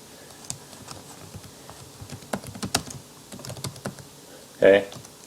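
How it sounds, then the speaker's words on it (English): Scattered clicks and taps from typing on a computer keyboard, in uneven bursts at moderate volume, with a short voiced sound near the end. "well, I'll type it, I want to write it out"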